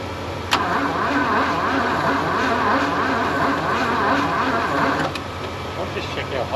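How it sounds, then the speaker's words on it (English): The starter motor cranks a Valiant Pacer Slant 6 engine that has been parked for 46 years, grinding steadily and unhappily for several seconds at close range, with clicks near the start and end. "if that starter's getting hot, because it doesn't sound real happy"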